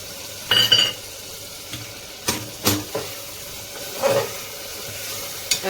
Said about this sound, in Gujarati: હવે નાખે છે મસૂર.